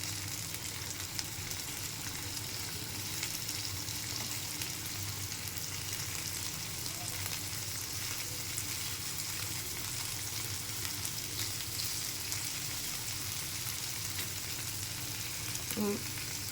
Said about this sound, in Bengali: এই পিঠ ভাজা হয়ে গেছে, এখন এই ফিরিয়ে দেবো।